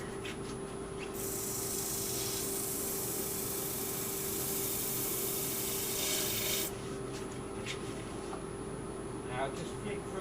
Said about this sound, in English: Now just flick through a couple of grits here, only to 320 to do us.